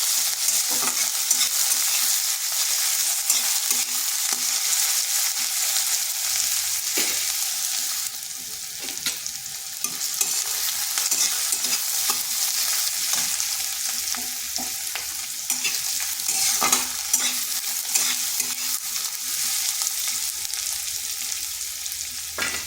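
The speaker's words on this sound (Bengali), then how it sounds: "পেঁয়াজটা ভাজা হয়ে গেছে" Long-sliced onions sizzle steadily in a pan, with a spatula stirring and scraping through them in frequent bursts; the frying is continuous and close, with no voices.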